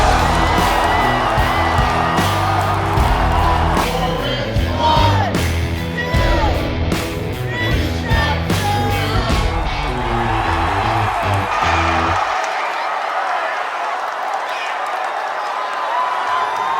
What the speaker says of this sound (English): there is a lot of love from the home crowd